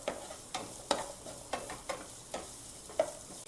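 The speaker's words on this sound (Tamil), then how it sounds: "இந்த மாதிரி லைட்டாக வதங்க ஆரம்பித்தோடனே" Onions sautéed lightly in a pan, with a soft background sizzle broken by several sharp stirring scrapes and clicks at irregular intervals, close by.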